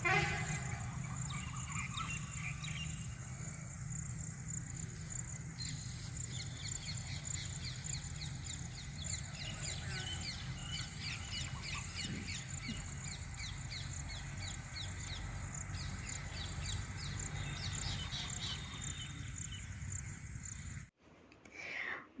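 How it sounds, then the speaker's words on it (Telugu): Birds chirp and sing in repeated bright trills near a village house by open fields, faint and slightly distant over steady insect buzzing, before a brief drop near the end. "పక్షులు చేసే సౌండ్ చక్కగా వినిపిస్తుంది"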